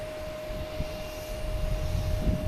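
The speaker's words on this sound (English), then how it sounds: "Lufthansa A380 is finally moving a little quicker." A Lufthansa Airbus A380 taxiing at Boston Logan Airport, a steady distant engine rumble with a constant whine running through it, moderate and even throughout.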